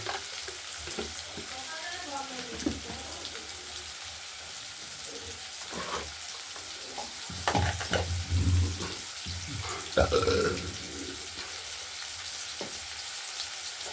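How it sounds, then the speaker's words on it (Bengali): Small cut potato pieces, salted, fry in oil in a karai, giving a steady sizzle broken by scraping stirs and a couple of louder clatters, with a faint voice in the background. "প্রথমে এই ছোট ছোট করে কেটে গোট গোট করে কাটা আলুগুলোকে ভেজে নেব"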